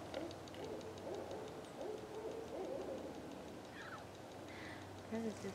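Two owls hoot back and forth in the woods, soft rhythmic calls drifting from a distance and heard faintly beneath quiet human talk nearby.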